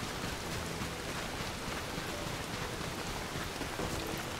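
Steady rainfall in the survival game Soulmask, an unbroken, faint wash of pattering drops with a slight low rumble underneath, no speech.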